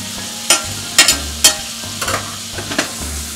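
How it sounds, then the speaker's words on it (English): Butter melting in a hot skillet with lemon juice and capers, a soft sizzle punctuated by several sharp scraping stirs of a utensil against the pan. "just let this all melt, let the butter melt"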